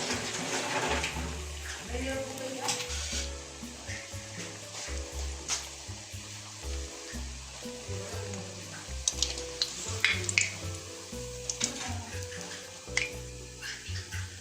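Lentil dumplings for dahi vada sizzling and frying in hot oil, a steady crackle under intermittent stirring and clinks, with a person talking and background music over it.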